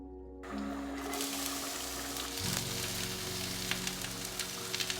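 Green chilies and curry leaves sputtering in hot oil, a bright crackling sizzle that starts abruptly and swells as they hit the pan, with sharp pops near the end.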